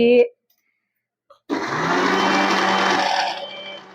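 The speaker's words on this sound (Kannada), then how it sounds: "ಈಗ ಒಂದ್ ಮಿಕ್ಸರ್ ತಿರ್ಸ್ಬಿಡ್ತೇನಿ" A mixer grinder whirs loudly for about two seconds, a steady high motor drone that then winds down, after a brief voice at the start.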